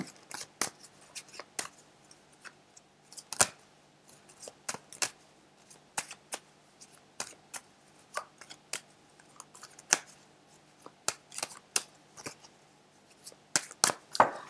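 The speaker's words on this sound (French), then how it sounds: "Donc je prends mon tarot de Marseille, je mélange les cartes." Tarot de Marseille cards are shuffled by hand, giving soft, close, irregular clicks and flicks of card edges scattered across a quiet background.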